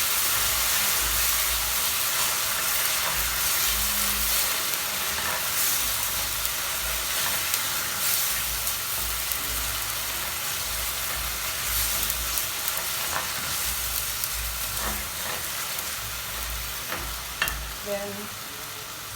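Chicken gizzards sizzle and fry in a pan with grated tomato added, a steady crackling hiss broken by occasional clinks and stirring scrapes, growing slightly quieter toward the end.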